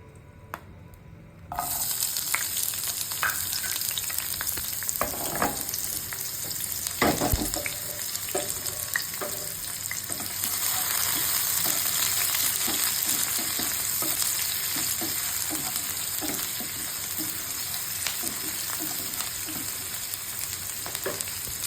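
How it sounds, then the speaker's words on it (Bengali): Onion hits hot oil for a Bengali chicken khichuri: after a brief quiet moment, a loud, close sizzle bursts in and keeps crackling steadily, with occasional stirring clicks. "গরম হলে এখন ঢেলে দেবো পেঁয়াজ"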